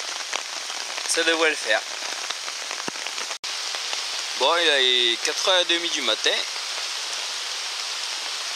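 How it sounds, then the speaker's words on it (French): Steady rain falls at night on a hammock shelter at a bushcraft forest campsite, a constant close patter. Someone speaks quietly in French over it. "Et il pleut toujours autant."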